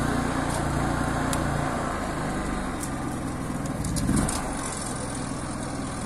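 Diesel engine of a Ford F-4000 4x6 expedition truck idling steadily from outside, a continuous low rumble with a brief swell near the end and no talk.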